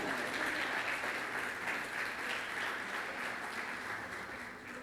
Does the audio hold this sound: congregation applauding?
yes